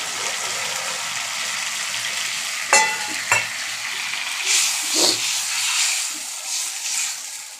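Water poured into a pan of frying chili and mustard paste for a mustard pabda fish dish sets off a steady loud sizzle, with a couple of sharp bursts of spitting and crackling midway.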